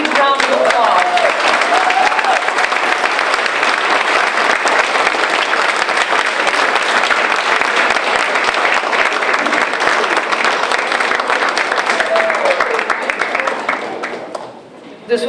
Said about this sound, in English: I encourage you all to give them a big round of applause